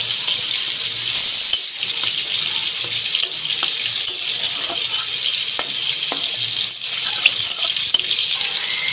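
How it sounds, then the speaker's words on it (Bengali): Cumin seeds and whole dried red chillies fry in hot oil as a tempering for a vegetarian pointed gourd and peanut dish, giving a steady, close sizzle with occasional louder bursts and scraping stirs, with no voices. "গরম তেলের মধ্যে ফোড়ন দিয়ে দেবো সাদা জিরে আর গোটা শুকনো লঙ্কা ফোড়নটাকে নেড়ে চেড়ে একটু ভেজে নেব"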